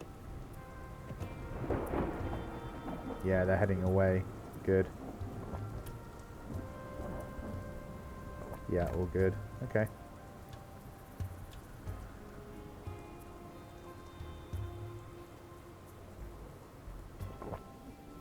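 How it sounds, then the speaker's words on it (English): Heavy rain and thunder in the video game Dustland Delivery: a constant hiss of downpour with low rolling thunder, mixed with game music, while a person speaks briefly over it. "heavy rain."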